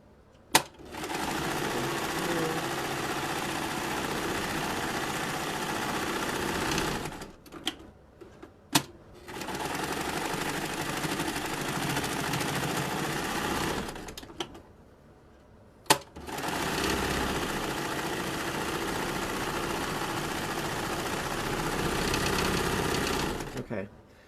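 A serger sewing machine stitches a fabric face mask in three loud, steady bursts of whirring with short pauses and clicks between runs.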